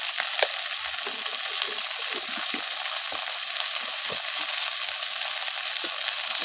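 Shrimp curry with okra bubbling and sizzling in a pot over an outdoor wood stove, a dense steady hiss with soft intermittent scrapes and taps of a spoon being stirred.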